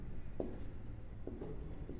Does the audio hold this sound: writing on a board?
yes